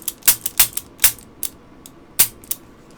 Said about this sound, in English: It's not the worst trigger pull in the world.